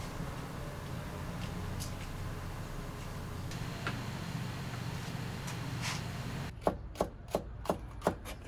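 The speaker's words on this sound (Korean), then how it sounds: "미리 썰어 놓지 않고 장사하기 전에 딱 썰죠" Knife slicing braised pig's trotters (jokbal) on a board in a Korean jokbal shop: a run of five or six crisp, evenly spaced chopping knocks near the end, after a stretch of low kitchen hum with faint ticks.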